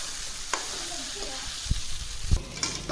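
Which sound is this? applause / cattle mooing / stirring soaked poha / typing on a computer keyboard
stirring soaked poha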